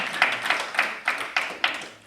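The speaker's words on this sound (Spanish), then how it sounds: "Démosle un aplauso a nuestro buen Dios" Church congregation applauding God during a Sunday service, a small group clapping in a steady, even rhythm of about eight claps at moderate loudness.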